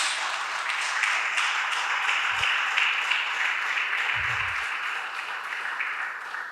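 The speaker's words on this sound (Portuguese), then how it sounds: "Pode aplaudir o Senhor Jesus" A church congregation applauds during a sermon, a steady wash of many hands clapping that holds evenly from start to finish, with a couple of faint low thumps underneath.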